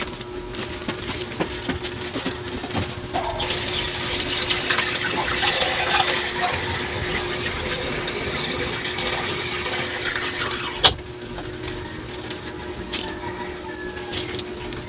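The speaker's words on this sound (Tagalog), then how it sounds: "Para hindi tayo mahirapan maglagay ng tubig." Water pours steadily into a container with a continuous gushing, splashing sound, joined by a sharp clunk near the end.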